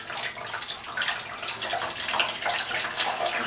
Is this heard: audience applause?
no